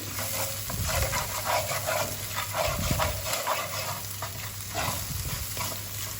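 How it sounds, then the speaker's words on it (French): Food seasoned with salt, pepper and paprika stirred in a frying pan, a low sizzle under rhythmic scraping and clattering strokes of a utensil against the pan. "Je vais remuer."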